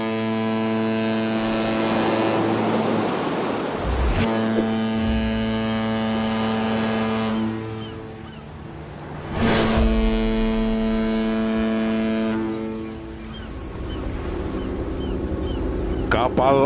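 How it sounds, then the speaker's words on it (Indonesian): A ship preparing to set sail: deep droning engine hum with strong tonal harmonics, rising and falling in loudness with loud bursts, under speech. "Kapal akan segera kembali berlayar."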